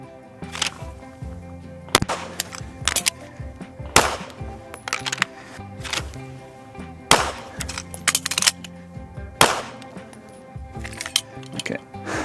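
Gunshots ring out in a shooting drill with a draw and a reload, several sharp loud cracks in irregular bursts spread across the stretch, each with a brief echoing tail, and no voices over them.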